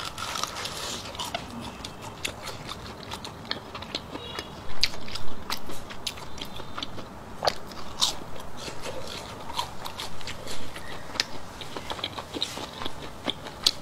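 Close, crunchy chewing and biting of fried meatballs in a crisp batter with mixed rice, steady wet mouth sounds and crackles repeating for the whole stretch, no talk.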